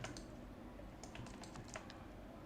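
Keys clatter on a computer keyboard as text is typed into a Shopify store editor, a quiet run of light, irregular clicks and taps with no talking.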